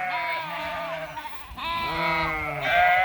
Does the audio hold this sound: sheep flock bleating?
yes